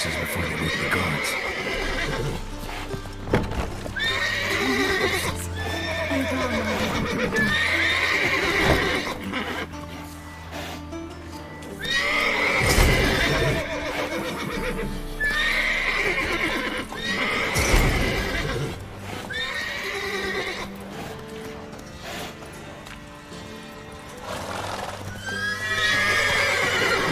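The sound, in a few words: horses neighing in the video game Witcher 3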